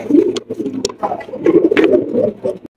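Tail-mark pigeons coo in soft, low, repeated throaty phrases close by, with a few sharp flutters or clicks between them.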